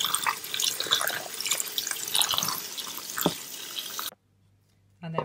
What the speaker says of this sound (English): Rinse the wild garlic leaves.